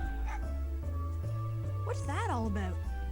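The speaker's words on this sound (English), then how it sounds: "So now we see Tronbon there getting chased by a little doggy." A small dog in Mega Man Legends yips and whimpers in short bursts while chasing a character, heard over constant game music and sound effects, with a voice talking over it.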